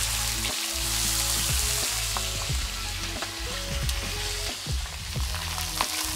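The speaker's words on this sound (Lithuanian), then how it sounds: "Ir nieko nelaukdami dedame mūsų mėsytę. Ja truputėlį apkepsime iš 2 pusių." Meat sizzles steadily in hot garlic oil in a cauldron, a constant close crackling hiss with small pops and stirring clatter, under a low background hum.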